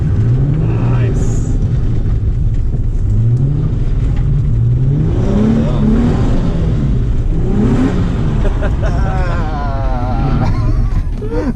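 A Nissan 350Z drifts on a track, its engine revving loudly with rising and falling pitch and steady accelerating pulls, close and continuous, with talk over it.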